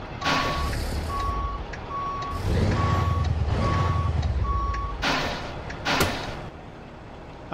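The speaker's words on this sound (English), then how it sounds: "we're gonna back it in there" A Mack Superliner semi backing in, in American Truck Simulator, sounds six evenly spaced reversing beeps over a rumbling diesel idle, with air-brake hisses and door clunks afterward.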